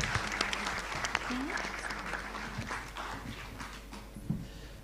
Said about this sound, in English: Can we have a round of applause first,